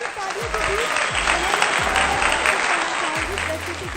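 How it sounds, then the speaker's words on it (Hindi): Loud, dense applause from a large crowd at a devotional bhajan stage event, sustained throughout with a steady roar of clapping and some voices mixed in. "एक बार जोरदार तालियां"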